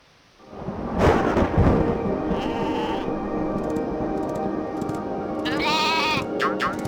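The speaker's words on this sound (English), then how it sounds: "Run sheep, run!" Sheep bleat in the Spyro 2 video game, several wavering calls rising over a loud, continuous roar of rain and thunder, close and prominent, with no talking.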